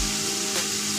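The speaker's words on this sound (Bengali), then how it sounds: "1 চামচ লঙ্কার গুঁড়ো দিয়ে ভালো করে কষিয়ে নেব।" Turmeric and chili powder frying in hot oil in a pan for Bengali katla fish curry, giving a loud, continuous, dense sizzle with no gaps and no voices.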